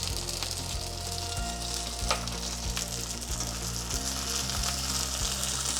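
Brussels sprouts and gnocchi with lemon zest sizzle steadily in a hot pan, a dense continuous frying hiss broken by a few sharp scrapes and clinks of stirring, close and fairly loud with no talking.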